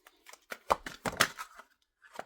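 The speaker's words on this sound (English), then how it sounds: "I'll do one more shuffle." Tarot cards being shuffled by hand, a series of quick papery riffles and slaps in irregular bursts, close and fairly quiet, with no voices.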